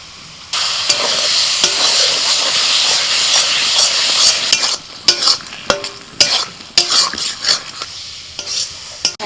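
Taro leaf greens being stirred in a cooking pot, opening with a loud steady hiss and sizzle of steam, then giving way to a series of close, uneven scraping and clattering strokes of the spatula against the pot.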